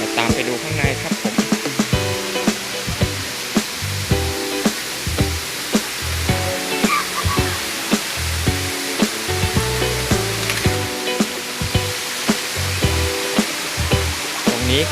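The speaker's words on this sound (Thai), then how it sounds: "ตรงนี้คือจุดน้ำตกนางควรนะครับ" Nang Khruan waterfall in Phop Phra, a steady broadband rush of falling water mixed with crowd noise and people talking and children playing nearby.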